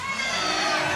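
A gospel concert audience cheers and shouts in a loud, dense burst of overlapping voices.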